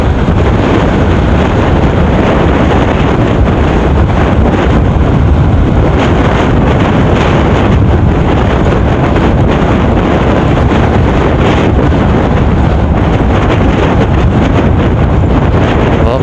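A loud, constant roar of strong wind batters the microphone outdoors in Dimasalang, Masbate, with no letup and no voices.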